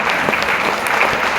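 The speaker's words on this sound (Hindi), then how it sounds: "ताली बजाइए" A seminar audience claps in a steady, dense burst of applause that fills the whole moment at close range.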